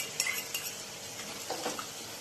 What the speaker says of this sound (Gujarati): હવે આમાં તેલ વરે ને ત્યાં સુધી આને ચોરાવવાનું છે.